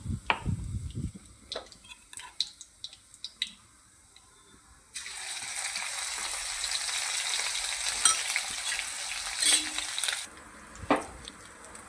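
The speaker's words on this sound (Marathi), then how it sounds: "तेल गरम करून घ्यायचं आहे. 2 पळ्या तेल आहे बारक्या, आणि जिरे मोहरी आणि लसूण टाकून" Cumin, mustard seeds and garlic hit hot oil partway through, setting off a loud, bright sizzle that holds for several seconds before easing off, after a stretch of scattered kitchen clinks and taps.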